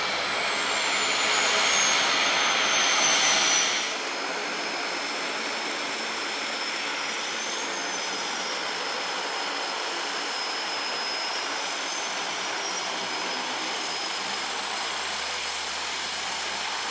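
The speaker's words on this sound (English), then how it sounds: "Ready to take off the Seaplane." A seaplane engine roars during takeoff in the Maldives: a loud, continuous droning rush that swells for the first few seconds, then settles into a steady, slightly lower roar.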